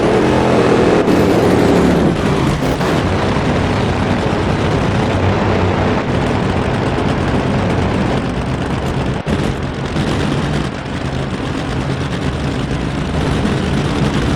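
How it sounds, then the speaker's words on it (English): NHRA drag racing engines roaring in the NHRA Speed for All video game at the Thunder Valley Nationals, a loud continuous broadband blast sustained for the whole stretch with brief crackling bursts, no voices. "These engines hit decibel levels of 150 dB, which is as loud as a fighter jet."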